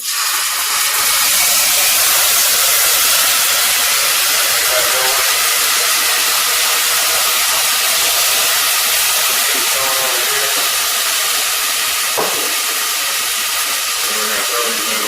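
White wine vinegar hits a hot pan of stir-fry, producing a loud, steady broadband sizzle and hiss that carries on without a break, with no talking over it.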